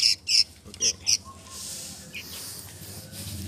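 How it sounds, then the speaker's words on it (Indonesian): Tame sooty-headed bulbul giving four sharp, bright chirps close by in the first second, then quieter bird sounds over steady outdoor background noise. "Dan ini tinggal burung kutilang yang jinak yang kemarin nih bro."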